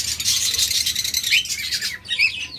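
Lovebirds and cockatiels at a bird sale chirp and tweet in a dense, continuous chorus of overlapping high calls, fairly close and steady, with a brief sharper squawk near the end.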